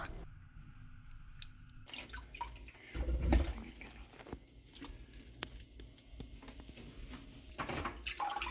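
Water drips and trickles off a whole pineapple lifted out of a soaking bath in a kitchen, scattered close splashes and patters over a quiet background, with one fuller slosh in the middle.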